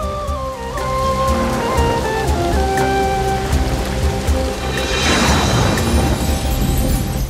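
Heavy rain pours down in a storm sound effect, dense hissing patter over sustained musical tones, swelling into a louder crashing downpour midway and continuing to the end.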